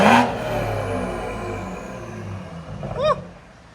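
A tuned 2017 BMW 540i 3.0L inline-six with downpipes and straight pipe revs to 5,000 RPM with a rising whine, climbing in pitch before cutting off sharply, then settling back to a rumbling idle.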